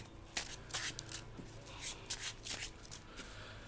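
Cards being shuffled up close, several quick riffling bursts separated by brief pauses, crisp and papery, with no voices.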